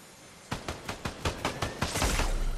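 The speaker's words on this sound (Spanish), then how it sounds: "Oigo tiros." Rapid bursts of gunfire crack out in a video game, about ten sharp shots in an irregular volley that builds into a denser, louder barrage toward the end, with no talking.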